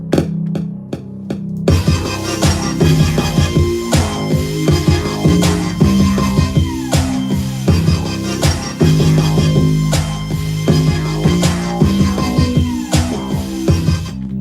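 A busy electronic beat made on an MPC with punchy drums and a melodic synth line, each hit trailing into a wash of echo and reverb.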